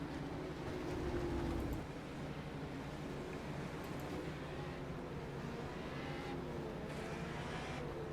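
Stock cars race around the South Boston track, a steady distant drone of engines blending into a broad, even roar with little change across the stretch.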